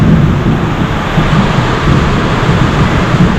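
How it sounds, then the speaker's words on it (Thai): Heavy rain pours down steadily and loudly, a dense continuous roar with no voices, recorded outdoors while waiting at a vehicle registration office to swap plates. "ฝนตกหนักเลย"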